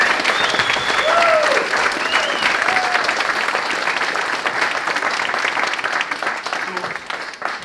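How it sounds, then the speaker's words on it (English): A crowd at an unveiling ceremony claps steadily and loudly for about seven seconds, the applause slowly thinning toward the end, with a few faint whistles or voices mixed in near the start. "a very merited round of applause for Cha and for Sean Donnelly"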